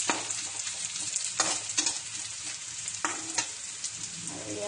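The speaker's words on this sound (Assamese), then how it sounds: "ইয়াতে পিঁয়াজ, দুখৰা তেজপাত আৰু 3টামান শুকান জলকীয়া দি ভাজি ল'ম ভালকৈ।" Onion, two bay leaves and a few dried chillies fry in a pan with a steady sizzle, interrupted by several scraping stirs of a spatula.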